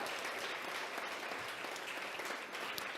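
Audience applause for donors at a hybrid charity gala and auction, a steady, even wash of clapping that is fairly faint and distant and continues throughout without a break.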